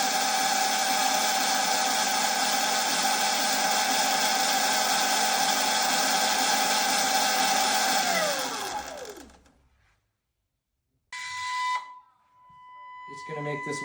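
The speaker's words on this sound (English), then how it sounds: "It's gonna make this weird noise, so that's totally normal. It's just it's correcting the motor angle." An electric motor on a Surron Light Bee X whines with steady high tones during a controller auto-tune on a newly installed Nucular P24F controller, winding down near eight seconds, then after a pause a shorter burst with a single clear tone.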